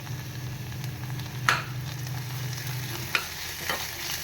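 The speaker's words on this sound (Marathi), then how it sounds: "आलं मिरची मग कच्चं छान असं तेलामध्ये फ्राय होऊन जाईल." Ginger-chili paste frying in oil for raw banana bhajji, heard as a quiet, steady sizzle with a couple of sharp stirring clinks.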